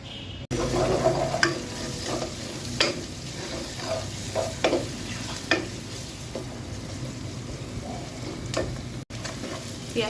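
Chicken pieces, for a green chilli chicken dish, lightly fried and stirred in a pan, giving a steady sizzle broken by repeated scraping strokes of the spoon at a close distance with no talk.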